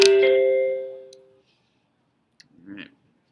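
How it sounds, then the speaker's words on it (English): A single bell strike rings out sharply and close, its clear tone decaying over about a second and a half into silence, followed by a faint click and a soft brief rustle. "sorry about the bell there"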